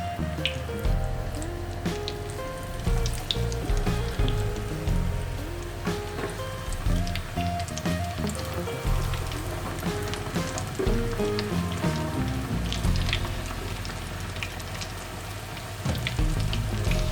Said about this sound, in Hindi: ये देखें जी, हम इसको फ्राई करने लगे।